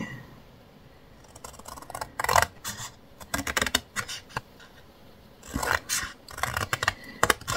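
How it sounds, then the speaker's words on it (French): Scissors cut paper for a scrapbooking project in short snipping bursts with scratchy rustles between them, close and fairly quiet, with pauses and no talking. "Ensuite, on va faire comme tout à l'heure, on va couper."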